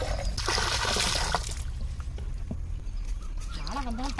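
Rain pours down steadily outdoors in a rural village, a dense hiss of falling water that runs throughout, with voices talking over it and a faint animal call near the end.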